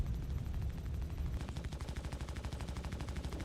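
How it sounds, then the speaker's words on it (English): Spaceship weapon fire in Star Citizen, with another ship shooting at the player: a rapid, steady train of gunfire pulses sets in after a short stretch of engine hum and continues evenly, moderately quiet. "There's another ship shooting at me."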